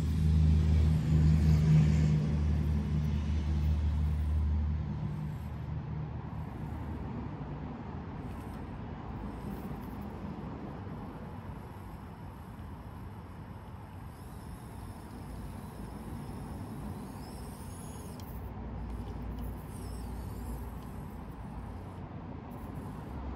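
An Olandoo Hunter D110 crawler fitted with metal wheels grinds up broken, torn-up concrete, giving a steady close motor whine and rumble that is loudest at the start and then settles into a constant drone.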